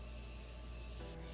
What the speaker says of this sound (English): Now I'm gonna go ahead and set my face with this Morphe setting spray before I do my lips